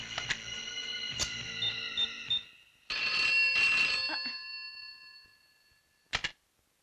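Telephone ringing in a Bollywood action film, a hospital phone being called: an electric bell rings in bursts, a loud ring first, then a second louder burst that fades out, with a short final ring near the end.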